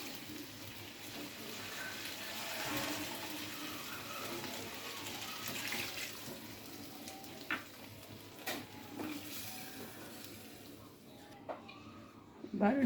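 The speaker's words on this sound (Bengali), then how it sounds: "এবার আমরা ঝোলের জন্য পরিমাণ মতো জল দিয়ে দিব।" Water pours into a pan of Bengali tangra fish curry with potatoes, flat beans and tomatoes, a steady soft gushing that runs for several seconds, followed by a few clinks and faint kitchen clatter.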